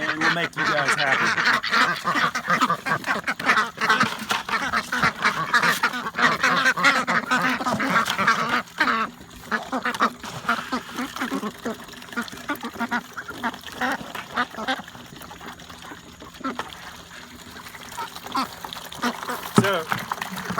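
About 15 ducks quacking in a noisy, busy chorus around a water trough, with scattered splashing and a person talking intermittently.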